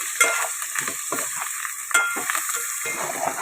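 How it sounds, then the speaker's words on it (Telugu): Freshly ground ginger-garlic paste frying and being stirred in a pan for moong dal rice, a steady close sizzle with repeated scraping strokes of the spoon, no talk. "ఇప్పుడు ఫ్రెష్గా నూరుకున్న అల్లం వెల్లుల్లి పేస్ట్ వేసుకున్నాము"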